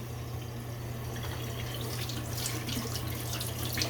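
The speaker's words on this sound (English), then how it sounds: "It's rinsing really well." Tap water runs steadily into a sink as a Wilkinson Sword safety razor is rinsed, a continuous close splashing rush with a low hum underneath and no talking.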